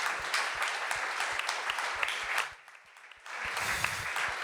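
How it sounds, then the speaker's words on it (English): An audience at a nature-finance summit panel applauds the panelists, with dense clapping that dips briefly near the middle and then picks back up. "So a round of applause for them."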